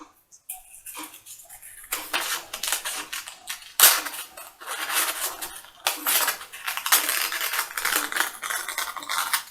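Scissors snip through a paper sewing pattern, giving close, dense bursts of crisp cutting and rustling that come in uneven runs with short pauses, no voices.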